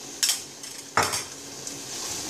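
Quinoa pilaf being stirred in a pan with sriracha added, giving a few clinks and scrapes of a utensil against the pan over a faint sizzle, with no talking.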